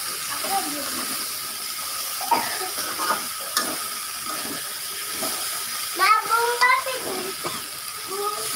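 Fried okra is sautéed and stirred in a pan in a home kitchen, a soft hiss with occasional spoon scrapes and knocks, joined by a voice talking over the cooking.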